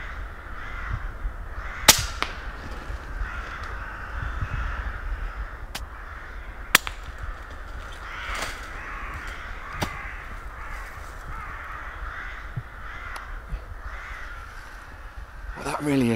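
Crows cawing at their roost at dusk, a scattered chorus of harsh repeated caws from several birds at moderate distance, with sharp airgun cracks punctuating the scene and someone speaking quietly at times.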